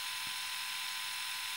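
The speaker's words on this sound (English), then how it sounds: "At around 55 decibels, the shaver is also one of the quietest we reviewed, and is okay in terms of its noise." A Philips Series 7000 electric shaver runs alone with a steady high-pitched whirring buzz, constant and even throughout at a moderate, fairly quiet level.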